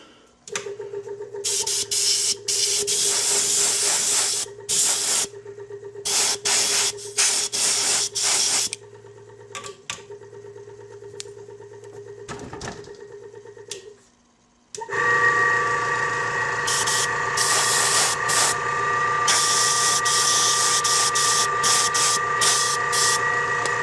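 An airbrush sprays paint onto edges in bursts: close hissing spray with a droning compressor underneath, a brief pause midway, then a louder, steadier stretch of spraying to the end.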